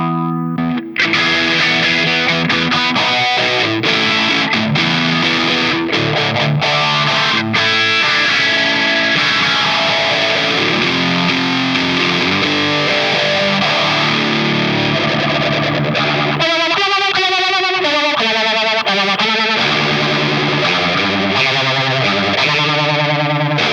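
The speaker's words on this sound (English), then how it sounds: "Phase 90. Like I said, never leave home without one." Electric guitar played through a Phase 90 phaser pedal, a loud, continuous distorted tone with a swirling, sweeping modulation that grows more pronounced near the end, heard alone without speech.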